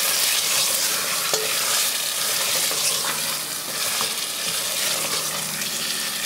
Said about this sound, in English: 3 teaspoons of yogurt and cook it down again.